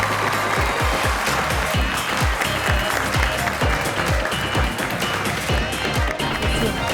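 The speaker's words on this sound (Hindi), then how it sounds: "आप सबकी तालियों में तशरीफ लाते हैं" A studio audience on a talk show applauds to welcome guests, with dense, steady clapping that is loud and continuous throughout, while a voice is faintly present underneath.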